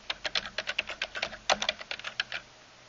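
Quick bursts of typing on a computer keyboard while entering a search into a web browser, about twenty close, crisp keystrokes in an uneven run before stopping.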